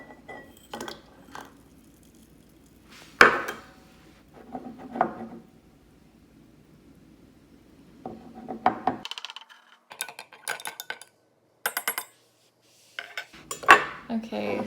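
Baking soda is stirred into a glass of pH indicator, with a spoon clinking and scraping against the glass in scattered bursts, some sharp ringing taps separated by quiet pauses.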